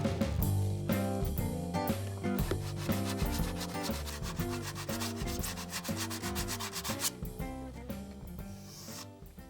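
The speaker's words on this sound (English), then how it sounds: "Sandpaper wrapped around dowels works really well for this." Hand sanding of a wooden furniture repair, using sandpaper wrapped around dowels, gives steady rubbing strokes throughout, loud and close, under prominent background music.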